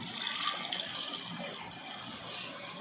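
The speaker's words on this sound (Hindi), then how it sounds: "अब इसमें हम पानी डाल देंगे," Water splashes and pours steadily into a pressure cooker, a soft continuous hiss and gurgle with no talking.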